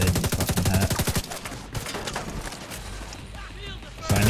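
Rapid machine gun fire from enemy gunners in The Division 2 shooter game, a loud rattling burst for about a second, then quieter scattered shots under a talking player.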